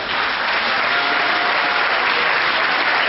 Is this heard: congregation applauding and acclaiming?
yes